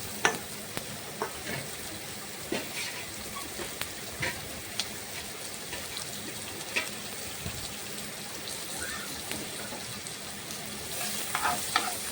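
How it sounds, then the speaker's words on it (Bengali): Chopped onions frying in hot oil in a pan, a steady dense sizzle and crackle lasting throughout with light scraping and stirring sounds on top, close and moderately loud. "এইদিকে তেল গরম হয়ে গেছে এখন আমি পেঁয়াজ কুচিগুলো দিয়ে দিলাম"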